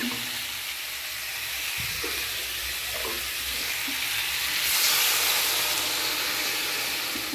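Water is poured into a pan of fried fish, and a steady close sizzle with a few stirring clicks surges into a louder, steamy hiss partway through, then settles, with no voices.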